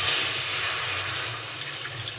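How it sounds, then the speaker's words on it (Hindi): Water poured into a kadhai wok while cooking, a continuous splashing gush heard close up that slowly eases, with no talking. "अब मैं कढ़ाई में पानी डाल लेती हूँ।"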